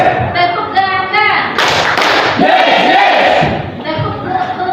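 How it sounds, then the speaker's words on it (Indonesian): A group of people doing double claps in a classroom activity, bursts of claps mixed with loud voices calling out together, crowded and close. "tepuk ganda, berarti tepukannya 2 kali"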